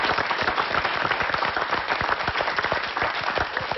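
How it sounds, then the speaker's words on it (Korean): A TV studio audience claps in dense, sustained applause, many hands striking rapidly and evenly throughout, loud and close. "박수."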